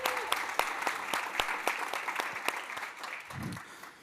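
Audience applause for five finalists at a university pitch competition, a steady wash of many hands clapping with sharp individual claps standing out, fairly close, with a brief cheer near the end.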